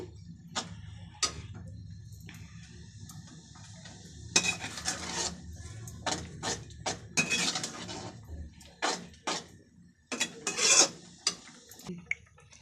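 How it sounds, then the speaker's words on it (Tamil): Spoon stirring semiya kesari with sugar in a pan, giving soft scraping and light metallic taps at an irregular pace, close and fairly quiet against a low background hum. "ஜீனி போட்டு நல்லா கிளறியாச்சு"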